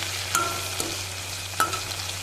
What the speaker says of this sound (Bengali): টমেটোটাকে দিয়ে 2 মিনিট একটু নাড়াচাড়া করে নেব।